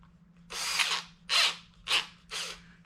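Power drill spinning an engine valve during a Honda CT90 engine rebuild, four separate whirring bursts, each roughly half a second long, close and fairly loud with short pauses between them.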